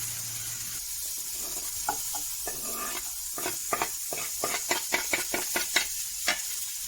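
Chicken of the woods mushroom pieces dry frying in a pan, a low hiss broken by a quick run of scraping, clattering stirs, close up with no talk.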